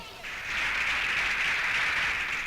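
Crowd clapping in a Hindi film scene at a political gathering, a dense steady wash of applause that swells after a brief quieter start and holds loud throughout.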